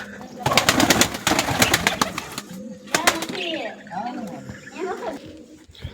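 Soft, low pigeon cooing in short warbling phrases, heard under nearby voices and some louder animal calls in the background.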